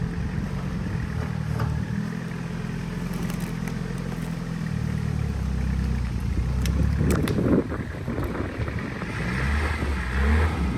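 A Toyota Hilux LN106 with front and rear lockers engaged crawls along off-road. Its low engine rumble drones steadily under rattles and clatter from the vehicle.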